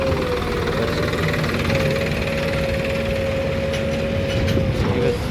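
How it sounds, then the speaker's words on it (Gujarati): A Sonalika tractor engine runs steadily nearby, a continuous loud diesel drone with a constant hum that holds unchanged for the full span, no voices over it. "આ ટ્રેક્ટર આવી ગયું છે આજ બીજું સોનાલિકા."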